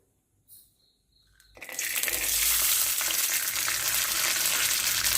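Peanuts hit hot melted ghee in a pan and burst into a loud, dense, continuous sizzle close by, after a quiet start with a light knock.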